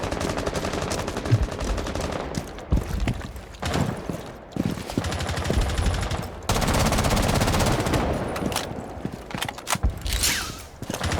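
Gunfire in Rainbow Six Siege aimed at a camera, rattling automatic bursts and single cracks interspersed with mechanical clanks and footsteps, loud and close throughout.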